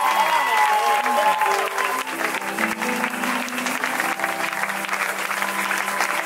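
Loud, sustained applause and cheering from a large audience at a live stage event, dense and continuous throughout, with a voice faintly underneath.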